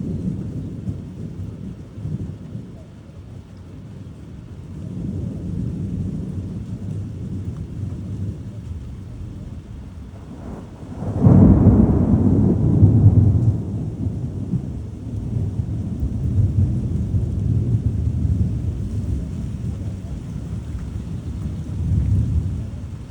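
A severe thunderstorm line in Troy, Illinois, with heavy rain and wind roars steadily while a loud rumble of thunder breaks in midway and rolls on under the downpour.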